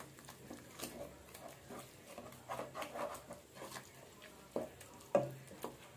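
Yogurt stirred into a sizzling masala for vegetable kurma makes faint, irregular scrapes and soft frying crackle, punctuated by a couple of sharper utensil knocks toward the end.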